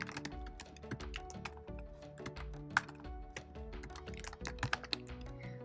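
Steady, close typing on a computer keyboard as a note is entered, with rapid irregular key taps and a few sharper clacks running continuously with no talk.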